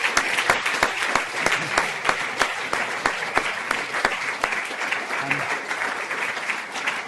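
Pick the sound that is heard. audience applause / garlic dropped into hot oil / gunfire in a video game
audience applause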